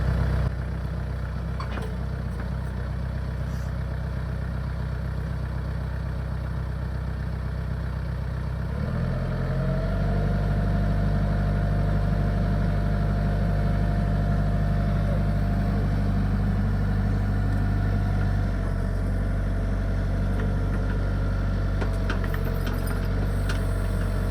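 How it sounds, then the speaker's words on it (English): A tractor engine runs during septic work, idling steadily at first, then settling into a heavier, louder drone from about a third of the way in, continuous and close with no talk. "Today's the day that Jason lets me operate the tractor in any way, shape, or form."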